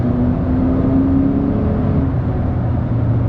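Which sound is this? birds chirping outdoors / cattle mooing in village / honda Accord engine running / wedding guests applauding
honda Accord engine running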